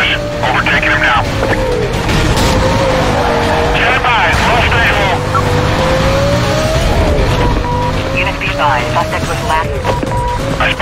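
A police car crash in Need for Speed Most Wanted brings a loud droning engine under screeching tires and clattering impacts, with radio chatter from police over the top.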